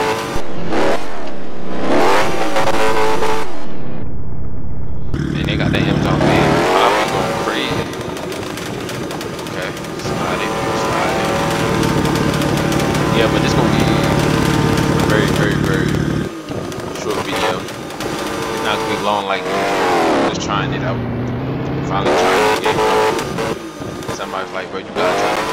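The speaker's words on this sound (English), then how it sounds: "Dang, the Amazon van that loud." An Amazon delivery van engine in a Roblox car game revs and roars continuously with rising and falling pitch, dense, with brief dips in between.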